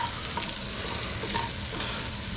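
Butter sizzles in a hot pan for butter chicken, a steady soft frying hiss with faint stirring clicks, continuous and close, with no talking.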